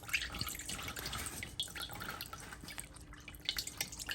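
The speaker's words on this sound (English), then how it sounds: "getting the milk off the cheesecloth, you just add gentle pressure and the milk will come out." Homemade oat milk drips and trickles through cheesecloth under gentle pressure, a close, soft, continuous patter of liquid falling into a container, with no talking.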